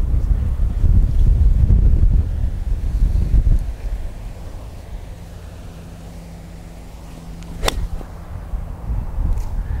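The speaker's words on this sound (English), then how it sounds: "because the wind is strong" Strong wind buffeting a microphone on a golf course, a loud rumbling gust at first that eases into a steadier, softer blow with a brief flap, no talking.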